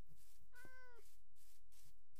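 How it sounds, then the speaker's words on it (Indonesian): A cat in the Minecraft Java Edition video game gives one clear meow over a steady background hiss, a short tonal call that bends downward and is moderately quiet. "Ada kucing, teman-teman."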